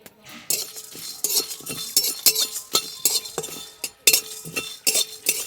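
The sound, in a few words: whole spices dry-roasting and stirred in a pan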